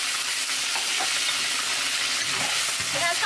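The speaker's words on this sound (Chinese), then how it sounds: "有烧热，把姜蒜泡菜哈丢下去" Ginger, garlic and pickled vegetables hitting hot oil in a wok, a loud, dense, continuous sizzle with scraping stir strokes throughout.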